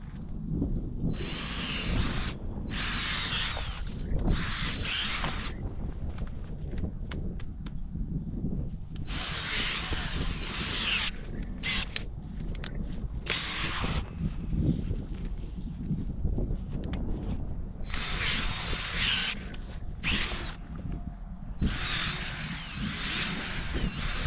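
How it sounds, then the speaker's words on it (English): A power drill bores a hole in the ground for an outdoor trap set, running in several loud, grinding bursts separated by short pauses across the stretch, with steady outdoor background noise between them. "I'll go ahead and drill my hole."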